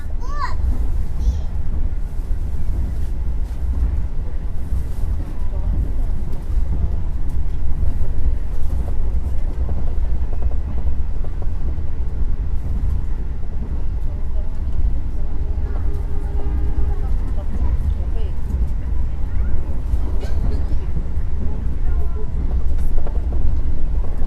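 Continuous low rumble and rattle of a moving Indonesian economy-class passenger train, heard from inside the carriage, with faint children's voices chattering in the background throughout.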